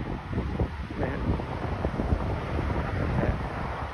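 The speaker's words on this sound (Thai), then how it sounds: "ลมค่อนข้างแรงนะ" Strong wind buffets the microphone in a steady roar while a one-metre tailless kite is flown outdoors on a heavy line.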